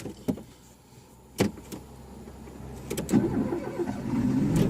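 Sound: car engine being started during driving lesson

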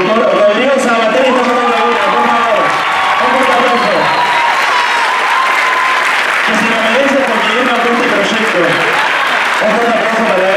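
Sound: audience applause for the producer

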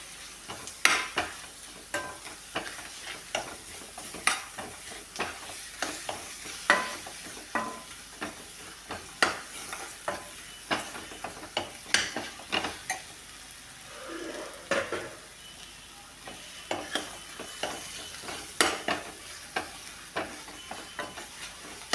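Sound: tomatoes being sautéed and stirred for fish curry

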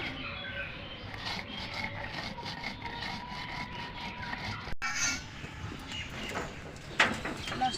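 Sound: grinding spices into a paste for pickle

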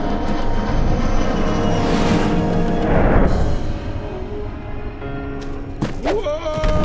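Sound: airplane flying overhead

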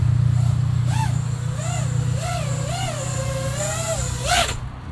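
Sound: drone motors making a bad noise

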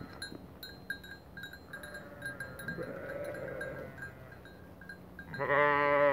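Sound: sheep bleating on the way to pasture

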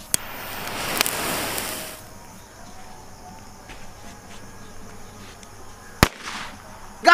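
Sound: Diwali firecrackers set alight together and exploding

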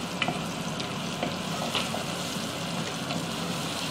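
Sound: frying and lightly browning for egg Maggi

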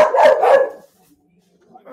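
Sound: dogs barking

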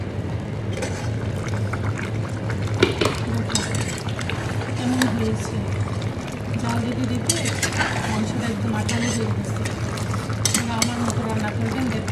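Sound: beef curry being stirred and fried in a pot

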